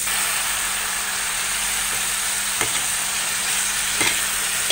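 Tomatoes stirred and mixed in a frying pan sizzle with a continuous hiss, punctuated by a few sharp scraping clicks of the spatula, close and fairly loud.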